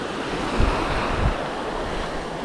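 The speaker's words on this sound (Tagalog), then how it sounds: "Kalmado yung dagat oh." Calm sea waves wash onto the shore at San Juan, Batangas, early in the morning. The result is a steady, soft broadband surf hiss with light wind noise and two gentle surges, and no one speaks.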